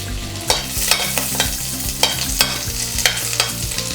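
Butter sizzling in a pan while being stirred, with regular sharp scrapes of a utensil against the pan over a continuous frying hiss and a low hum beneath.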